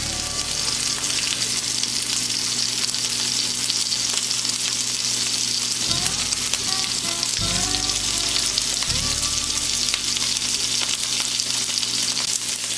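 A steak sears in a hot pan with a steady, loud, dense sizzle that runs throughout, broken by a few brief shifts as it is nudged or moved.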